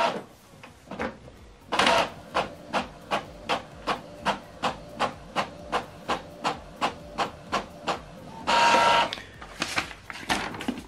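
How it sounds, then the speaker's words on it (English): An Epson XP-5200 inkjet printer printing a test page: a rapid, regular train of short mechanical clacks from the moving print head, bracketed by longer whirring paper-feed bursts, close and clear with no talk. "Here we go, it's printing test page."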